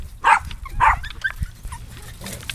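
Several dogs, a blue heeler and Boston Terrier-Lab mixes, give a couple of loud yips or barks near the start, followed by softer whimpers and small vocal sounds close to the microphone.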